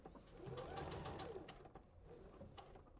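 A sewing machine stitches a quilt from corner to corner along a drawn line. The motor gives a fairly quiet, even whir with faint rapid needle ticking for about two seconds, then slows and stops.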